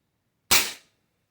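A single shot from a Diana .22 air rifle: one sharp, loud crack that decays quickly to silence, close by and alone.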